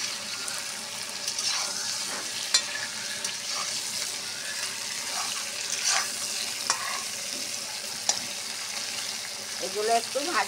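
Eggplant, pumpkin and other vegetables frying in a pan for a Malabar spinach and prawn dish, with a continuous close sizzle and occasional utensil taps as they are stirred.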